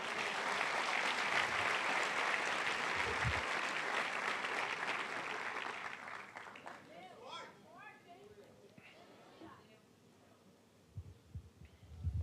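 Congregation applauding in a church during a worship vigil, a dense, loud burst of clapping that fades out, followed by scattered sounds and room noise.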